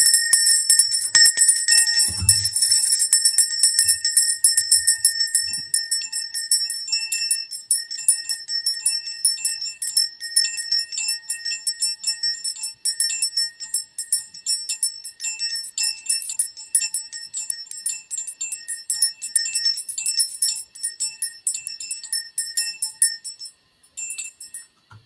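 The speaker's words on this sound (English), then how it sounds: "I got my little bell too." A small hand bell rings steadily and brightly for about twenty-five seconds, its repeated clear chimes continuing throughout, with a brief low thump near the start and no talking.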